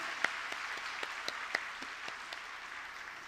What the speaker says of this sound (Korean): 우리 할렐루야 찬양대에게 우리 다시 한번 박수로 감사의 마음을 표하겠습니다